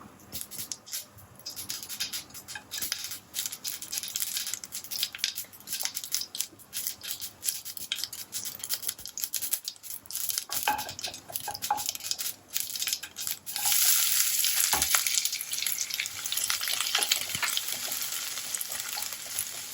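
Onions sizzle and crackle steadily in hot oil after mustard seeds and dried chillies, the frying growing louder and hissier partway through.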